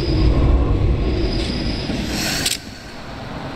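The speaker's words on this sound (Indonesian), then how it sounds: "ada suara kereta-keretaan" Toy train sound, a steady rattling rumble of wheels with faint squeals and clicks that drops off abruptly, then a quiet tail and a brief click.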